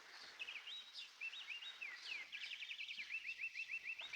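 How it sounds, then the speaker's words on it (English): Several birds sing in quick, bright chirps and trills, fairly faint but clear over a quiet background, building into a rapid repeated phrase near the end. "Now, listen to those birds sing."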